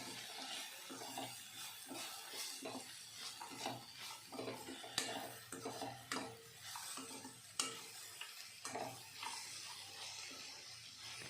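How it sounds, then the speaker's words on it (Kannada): Onions with turmeric powder frying in oil while a spoon stirs them, a soft sizzle under repeated scraping and clinking of metal against the pan, fairly faint and close, with no speech. "ನೀಟಾಗಿ ತಿರುಗಿಸ್ತಾ ಎಣ್ಣೆಯಲ್ಲಿ ಚೆನ್ನಾಗಿ ಫ್ರೈ ಮಾಡ್ಕೊಬೇಕಾಗುತ್ತೆ"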